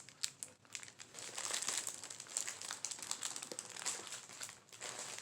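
Crinkly sticker sheets being handled close up, a continuous soft crackling and crumpling with quick rustling bursts throughout, quiet and with no talk.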